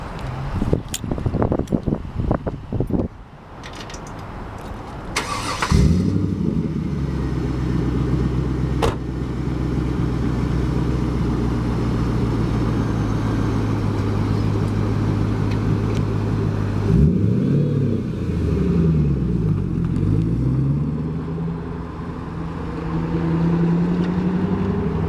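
A 2000 Chevrolet Camaro SS with a six-speed fires up after a few clicks, then settles into a loud, steady V8 idle with deep exhaust burble and two sharp revs blipping upward before dropping back, no one speaking.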